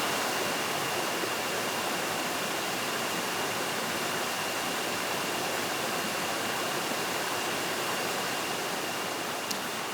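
A fast river current pours over rocks in the Panamanian backcountry, a steady, dense rush of water that fills the whole scene at close range without pause, with no voices over it.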